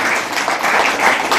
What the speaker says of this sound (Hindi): मैडम के लिए तो तालियां होनी चाहिए।